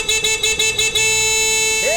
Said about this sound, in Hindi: इतनी ट्रैफिक में तुम्हें जोर जोर से हॉर्न बजाने की क्या जरूरत है?